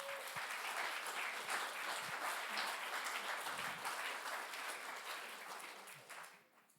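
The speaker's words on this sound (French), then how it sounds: "Vous pouvez applaudir toute l'équipe d'accueil." A church congregation applauds the welcome team with steady, dense clapping that carries through a large room and fades away at the end.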